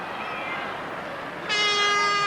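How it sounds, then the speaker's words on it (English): A long, loud, steady full-time hooter sounds at a 1980 rugby league match between Eastern Suburbs and Manly, starting over crowd noise and holding a sustained tone to the end. "There's the hooter, mercifully for Manly in the background"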